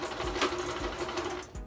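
A sewing machine running steadily on a zigzag stitch through heavy canvas drop cloth for a curtain hem, a fast even mechanical whir with rhythmic needle thumps, close and alone.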